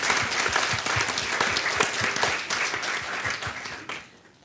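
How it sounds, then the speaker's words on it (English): Applause from an evening lecture audience for Professor Gould, steady and full for about four seconds before thinning out at the end. "Could we have a round of applause for Professor Gould?"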